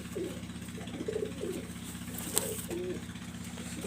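Pigeons of a flying breed coo in a run of soft, repeated low calls over a steady mechanical hum, with one brief sharp click midway.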